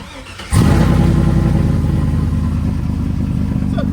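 A truck's engine fires up abruptly after a brief lull and settles into a loud, steady, rumbling idle close by, with no talk over it.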